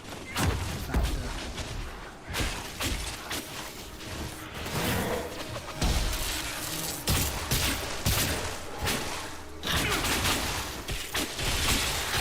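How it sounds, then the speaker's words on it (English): A missile barrage attack in Dragon Age: Inquisition lets off rapid volleys of thumping, crackling blasts and whooshes. They come in dense bursts with short lulls and stay loud from start to finish. "the missile barrage thing is actually quite a simple thing. It's a explosion of barrages similar to our attacks then"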